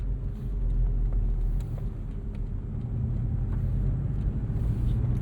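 A 2024 Porsche 718 Boxster Style Edition with a flat-four engine, PDK gearbox and sport exhaust switched on, giving a low, steady droning rumble while cruising, with no talk over it.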